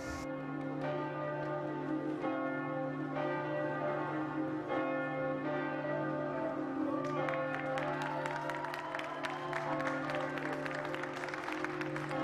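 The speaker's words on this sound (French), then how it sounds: "le carillon des cloches de Saint-Maclou nous sort d'entre les morts" The carillon of Saint-Maclou church in Rouen rings a continuous stream of overlapping bell tones, quite distant and soft, with a faint murmur of a crowd beneath.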